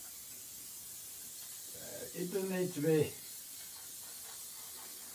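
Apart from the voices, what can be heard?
hairspray being sprayed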